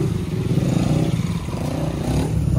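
A motorcycle engine rumbles and revs steadily up close as a rider arrives on a powerful bike, the throaty drone continuous with slight rises in pitch and a faint clatter, no voices over it.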